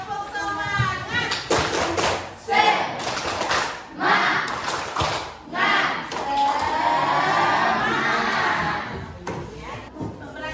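A class of schoolchildren performs the tepuk semangat clapping chant, with rhythmic group claps and taps under loud, lively children's voices chanting and shouting together in a room.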